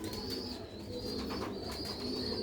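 Rooftop pigeons kept for sale in old Sialkot coo steadily at close range over a constant background hum, with a thin whistling tone drifting in and out.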